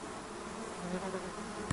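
A mosquito buzzes close by in a forest hut during a cedar-cone gathering trip, a steady thin whine holding evenly through the moment with a brief sharp knock near the end.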